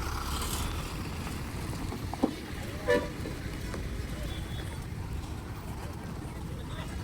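A KSRTC bus pulls in at the Yaragatti bus stand, with a brief horn toot standing out over steady engine rumble and the busy din of the station.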